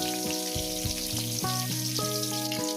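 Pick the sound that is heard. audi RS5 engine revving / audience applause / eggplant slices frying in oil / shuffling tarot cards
eggplant slices frying in oil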